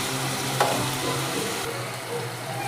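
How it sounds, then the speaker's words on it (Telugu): Chicken frying in a pan with tomato and ginger, a continuous close sizzle with a clatter of stirring early on, steady and fairly loud throughout. "మొత్తం అల్లం కలిసేలా కలుపుకొని కొంచెం ఫ్రై చేసుకుందాం."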